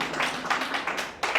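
Audience clapping at a stand-up comedy show, short scattered bursts of applause from a live crowd, fairly close and steady with small surges.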